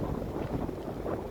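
Strong wind over a rough, high-wave sea off Aceh gives a steady, close rush of blustery noise that buffets the microphone for a brief moment.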